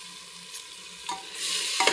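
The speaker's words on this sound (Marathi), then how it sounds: "तांदूळ परतून घेऊया." Rice sizzles and is stirred in a hot pan for biryani, a close, steady frying hiss broken by a few scraping stirs that swell in loudness toward the end.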